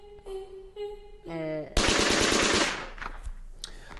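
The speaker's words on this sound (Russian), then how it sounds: "Почему всех остальных просто замораживают, а в него стреляют?" Game sound from a Talking Angela Squid Game mobile game: a short tonal jingle gives way to a loud burst of rapid machine-gun fire lasting under a second, followed by quieter game effects.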